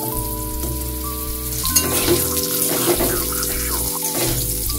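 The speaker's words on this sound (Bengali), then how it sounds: "আলুটা লাল করে ভেজে নিচ্ছি" Long-cut potato strips frying in hot oil with black cumin seeds in a pan, a steady sizzle running throughout, with loud tonal hum from nearby running water or appliance tones layered over it.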